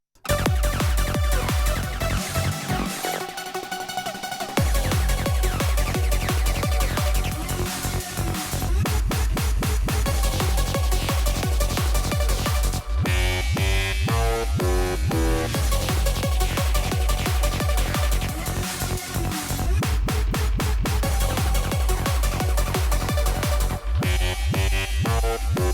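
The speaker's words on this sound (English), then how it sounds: "just basically chucked in some Hoover stabs and some D&B stabs, chopping in and out of the beats." A dense drum and bass production plays loud and continuous, with gated riffs, Hoover stabs and D&B stabs chopping in and out over driving beats, briefly thinning into a breakdown before the full groove returns.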